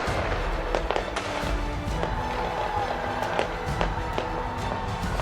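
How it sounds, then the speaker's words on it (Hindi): New Year 2025 fireworks over Auckland, New Zealand, crackling and popping in a dense continuous barrage, with sharp bangs scattered through a loud, busy wash of sound. "आसमान में भव्य आतिशबाजी का यह नजारा न्यूजीलैंड के ऑकलैंड शहर का है"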